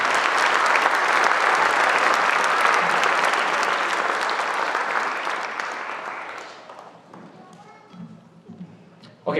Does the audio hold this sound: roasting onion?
no